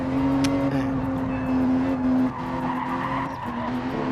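A race car in Gran Turismo 7 holds a steady engine tone while its tires skid and squeal in a loud, continuous run, dipping briefly midway.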